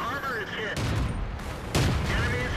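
Tank cannon fire in World of Tanks, with two sharp broadband blasts about a second apart, each followed by a short rumbling tail, set over steady game background noise.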